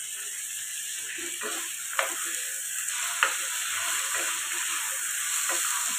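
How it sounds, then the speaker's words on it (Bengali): Raw rice added to a hot pan and stirred, a soft steady sizzle with a couple of sharp clinks and scraping stir strokes, fairly quiet and close with no talking. "চালটা ফার্স্টে দিয়ে দিলাম"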